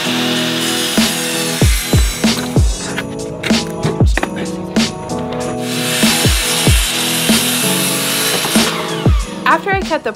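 Saw cutting a sheet of plywood for a desktop, a run of rough rasping strokes and knocks up close, with a voice talking over part of it.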